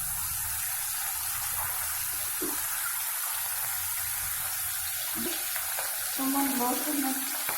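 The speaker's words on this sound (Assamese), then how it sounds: "এতিয়া মই ইয়াত কণীকেইটা মই নিমখ হালধিৰে এনেদৰে সানি লৈছোঁ আৰু এইখিনি মই ভাজি ল'ম।" Eggs rubbed with salt and turmeric fry in hot oil, producing a constant, dense sizzling hiss with a few soft clatters and a brief tonal scrape near the end.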